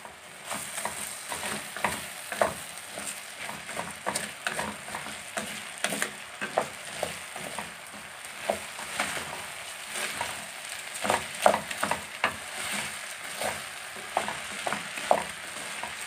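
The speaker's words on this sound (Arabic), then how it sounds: "الرز ده لازم نشوحه كويس كده، كل ما نشوح فيه يطلع الحرف الجميل." Rice stir-fried in a pot with peas, carrots and cubed meat, giving a steady sizzle broken by repeated scraping and clattering spoon strokes, close and fairly loud throughout with no talk.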